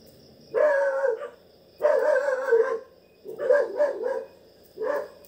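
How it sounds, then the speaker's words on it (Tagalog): Dogs bark in short bursts, several loud barks spaced a second or so apart with quiet gaps, a little distant. "Yung mga aso pa sa labas. Ang ingay."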